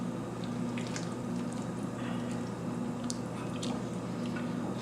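Green chile stew ingredients stirred in an overfilled bowl, giving continuous wet squishing and dripping with soft liquid sloshes over a steady low kitchen hum, close and fairly quiet, no talking.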